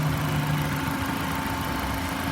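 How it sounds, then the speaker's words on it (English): A 2014 Nissan Versa Note's 1.6 liter four-cylinder, 139,000 miles, idles steadily and close with a slight misfire, a constant low hum with no voices. "Engine appears to have a slight misfire."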